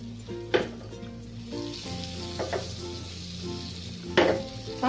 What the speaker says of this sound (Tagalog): Tapos, ngayon, yung chicken natin, yan. Yan, ipa-fry natin konti sa kanya.